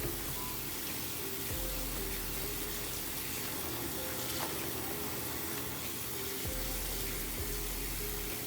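Tap water runs steadily into a sink while brushes and durags are washed, a continuous close splashing hiss with faint shifts in flow and no talking.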